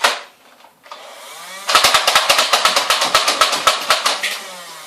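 A Nerf blaster with an added magazine, its most powerful model, fires a fast burst of sharp mechanical clacks after a brief whir, loud and close, with no talk over it.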